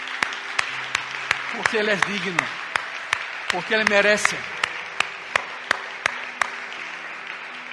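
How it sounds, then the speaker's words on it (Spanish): A church congregation claps in a steady beat, sharp and regular, while someone speaks over it in a worship service. "dê um aplauso a Jesucristo uma vez mais"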